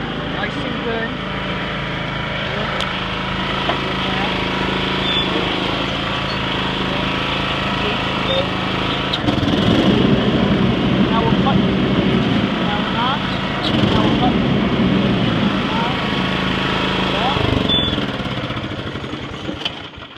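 A 1995 John Deere GX 75 riding lawnmower driving around a residential development, its engine droning steadily and close throughout, swelling a little louder midway before easing off near the end.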